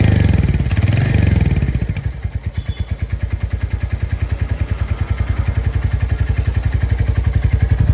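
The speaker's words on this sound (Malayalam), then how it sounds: "ഇനി നമുക്ക് വാഹനം ഒന്ന് സ്റ്റാർട്ടാക്കിയിട്ട് അതിൻ്റെ എഞ്ചിൻ്റെ സൗണ്ട് ഞാൻ നിങ്ങൾക്കൊന്ന് കേൾപ്പിച്ചു തരാം." A Royal Enfield Hunter 350 motorcycle idles up close with a steady, loud thumping beat from its single-cylinder engine. The throbbing pulse stays even after a brief rev and clatter at the start.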